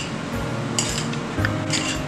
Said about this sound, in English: And now we mix it all together.